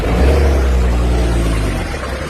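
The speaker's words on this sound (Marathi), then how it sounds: "बघा आता गाडी कशी आली" A vehicle drives past on a narrow concrete road, its close engine rumble loud and steady before easing off slightly as it moves on.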